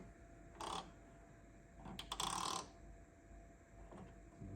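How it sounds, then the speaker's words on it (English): Ratcheting clicks from an 8mm socket ratchet as rear louver bolts on an S550 Mustang are slowly snugged down, heard in a few short bursts against a quiet background. "You go to your 8mm socket and just slowly tighten them up."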